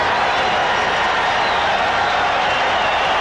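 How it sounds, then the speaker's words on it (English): A baseball stadium crowd at a World Series game roars with cheering and applause. The dense wash of noise is loud and sustained, a steady full-stadium din with no breaks. "Listen to the crowd."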